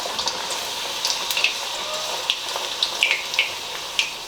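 Poori frying in hot oil on a medium flame, with a steady soft sizzle broken by scattered crackles and pops, heard close up and without speech.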